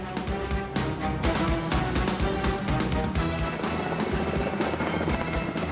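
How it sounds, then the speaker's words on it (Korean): A firefighting helicopter drops water on a forest fire in gale-force wind. The rotor throbs loudly and continuously, and sharp gusty bursts of noise break through it without pause. "헬기가 재빨리 물을 투하해 불길을 잡으려 애쓰는데요."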